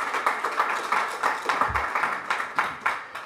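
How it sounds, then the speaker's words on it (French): Scattered clapping from a small audience at a press conference, a light, uneven patter of hands that stays steady and moderately close, with no voices over it. "Je voudrais qu'on l'applaudisse très fort, s'il vous plaît."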